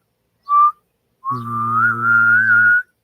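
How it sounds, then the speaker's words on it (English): One person whistles briefly, then hums and whistles at the same time, holding a low steady hum under a wavering high whistle for about a second and a half. The sound is close and clear, and no one speaks. "So it's kind of like humming with a whistle."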